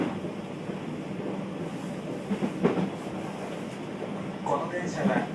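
Interior running noise of a Keio Line New 5000 series train in Keio Liner service. A low, steady rumble with faint rail clatter is heard from inside the car, with a few soft sounds in the background.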